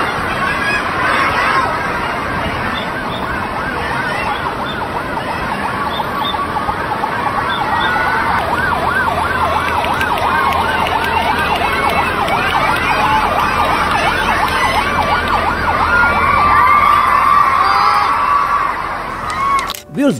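Fire engine siren wailing loudly as it works through a dense crowd in Hong Kong, a continuous rising and falling two-tone cycle that holds close and steady for the whole stretch, with faint crowd noise underneath.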